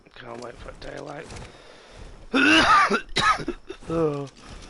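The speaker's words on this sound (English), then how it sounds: "Oh, I've still got a bit of a cough." A man who is still unwell coughs and clears his throat several times in rough, raspy bursts, close to the microphone, with his own brief talking around them.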